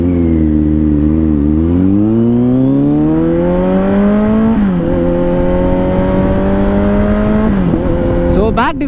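A 2021 Kawasaki Z900 is ridden hard, its engine note climbing through the gears in loud rising pulls with brief dips at each shift, close and continuous throughout.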